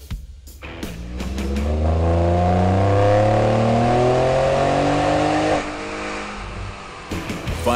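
A 2017 Ford F-150 Raptor with dual exhaust, chained to a chassis dyno, revs hard, its engine note climbing steadily in pitch for several seconds before easing off, loud and close, with no talking.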